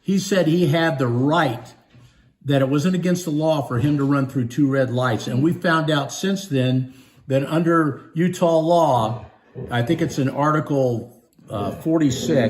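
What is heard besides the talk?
None of the usual background noises is heard.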